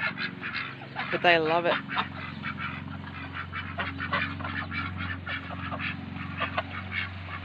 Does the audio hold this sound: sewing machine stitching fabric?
no